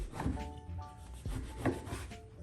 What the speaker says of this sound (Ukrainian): Тому нарізаємо хлібчик.